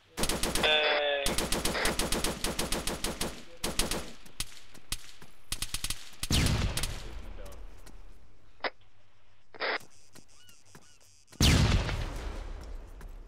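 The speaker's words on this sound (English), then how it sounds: "I guess policemen don't usually fire their guns into the air." Arma 3 gunfire, close and loud: rapid automatic bursts open the scene, then scattered single shots and a final heavy burst, with quieter background ambience between.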